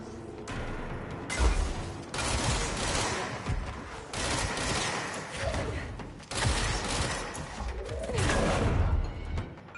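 Sniper fire in the Control video game cracks out in several loud bursts of rapid shots, separated by short quieter gaps and layered over a busy in-game soundscape.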